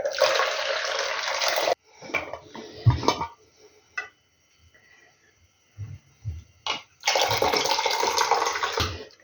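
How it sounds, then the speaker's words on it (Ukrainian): Hot water from a pot of pickled mixed vegetables is poured off into a bowl in a steady rushing stream, stopping partway, with a few knocks and clatters of the pot before pouring resumes. "зараз буду зливати воду, поклала біля себе отаку чашу, що буду міряти на літраж"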